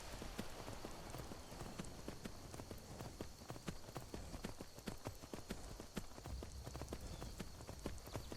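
Steady, continuous clip-clop of a ridden horse's hooves in Skyrim, evenly paced and close, with a faint ambient bed underneath.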